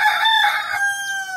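A rooster crows loudly and close in a chicken coop, one sustained drawn-out call.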